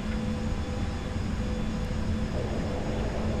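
An Aerosoft A320 jet rolling for takeoff at Queenstown in a flight simulator, heard as a steady, loud, broad engine roar with no break.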